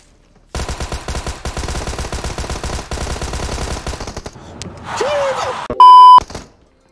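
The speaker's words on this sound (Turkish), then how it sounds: "Aa vallahi vurdum, Hasan'ı vurdum." Rapid automatic gunfire rattles loudly through PUBG Mobile gameplay for several seconds, then breaks off, followed by a whooshing swell and a steady electronic beep tone near the end.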